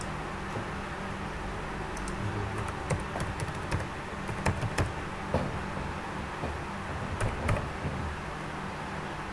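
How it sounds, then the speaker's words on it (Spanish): Someone types on a computer keyboard while entering a username and password, a quiet irregular patter of key clicks with a few sharper taps over low room noise. "aquí escribimos el nombre de usuario, por ejemplo este, una contraseña que debemos recordar."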